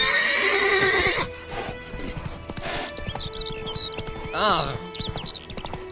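Roach, a horse in a video game, gallops with rapid clip-clop hoofbeats, opening with a loud neigh and whinnying again later, close and steady beneath game voices.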